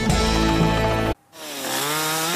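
A chainsaw screams at high, steady revs near the listener, cuts out abruptly for a moment, then restarts and climbs back to a loud, sustained whine in a citrus-growing area of rural Paraná, Brazil.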